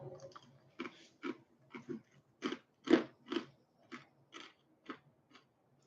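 Crunchy pretzel-like snack chewed close to the mic, a dozen or so sharp, brittle crunches in an uneven rhythm with short quiet gaps between bites, no talking.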